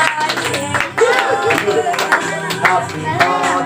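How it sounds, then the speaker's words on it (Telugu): Guests at a birthday party clap together in a quick, dense patter, loud and close, with voices and chatter mixed in over the whole stretch. "అందరూ గట్టిగా చప్పట్లు కొట్టాలి."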